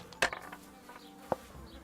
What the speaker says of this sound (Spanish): No sé si lo que estoy oyendo son abejas o son moscas.